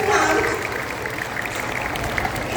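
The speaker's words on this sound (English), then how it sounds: "Let us once again express our heartfelt gratitude with a warm round of applause." A crowd applauds at an Independence Day celebration, dense continuous clapping that starts slightly louder and then settles into an even, sustained roar.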